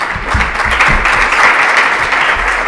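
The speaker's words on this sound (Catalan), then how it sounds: "un fort aplaudiment pel nostre convidat" An indoor audience at a cultural centre applauds a guest author, a loud dense wash of clapping that holds steady throughout without speech over it.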